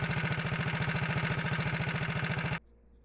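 Kohler K-series single-cylinder engine running at a steady idle, close and rhythmic, with rapid even pulses that stop abruptly near the end, leaving quiet background.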